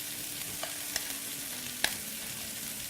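Rice stir-fried in a pan with very little oil, a soft steady sizzle broken by a few sharp clicks of a utensil against the pan; quiet and close, no talking.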